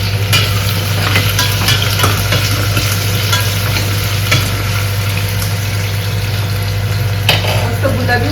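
Onions fry in a few spoonfuls of oil for chicken biryani, giving a steady, loud sizzle with scraping stir strokes and a constant low hum underneath.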